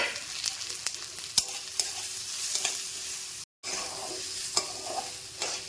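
Ridge gourd with salt and turmeric stirred in a pan, giving a steady sizzle broken by scraping spoon strokes and sharp clicks, with a brief silent gap midway.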